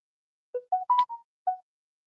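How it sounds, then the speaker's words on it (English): A phone notification chime rings out as a short melodic sequence of five clean tones, one briefly overlapping and a last one after a small gap, clear and alone against silence. "where'd that notification come from"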